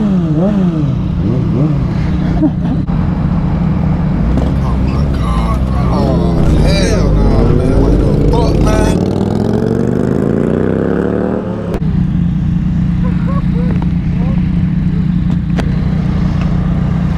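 Yamaha motorcycles, an R6, an MT-07 and an FZ6R, idle loudly and close by, with repeated revving swells and rising engine pitch over a constant rumble, and riders talk in between.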